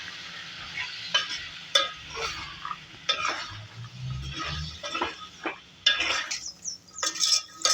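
A spoon scrapes and clinks against a pan while North Karnataka-style pea curry (batani palya) is stirred and mixed, in uneven strokes with light sizzling and no voices.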